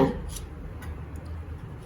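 A knife taps against a cutting board in a few light, irregular chops of vegetables for salsa, close by and moderately quiet.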